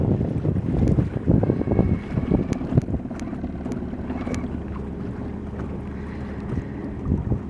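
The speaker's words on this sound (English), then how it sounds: "It's an 80-pound thrust trolling motor. So as you can see, it's doing its job." An 80-pound-thrust electric trolling motor runs on a boat out on the water, a low, steady drone partly buried under heavy wind buffeting the microphone and some water splashing.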